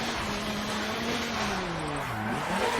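A car drifting in Forza Motorsport 7, its tires squealing in a long sustained screech under a steady engine roar. The pitch sags and wavers toward the end as the slide changes.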